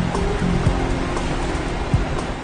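Steady broadband rush of the Neuse River flowing at New Bern, North Carolina, a continuous wash of water with faint low tones underneath and no voices.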